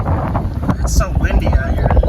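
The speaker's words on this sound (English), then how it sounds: "It's so windy out here." Steady low rumbling wind buffets the microphone throughout at a campsite, with faint voices and rustling underneath.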